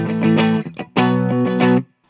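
A 2019 Gibson Les Paul Modern Faded electric guitar on the middle pickup position rings out two bright, sustained chords with a short gap between them, played loud and alone.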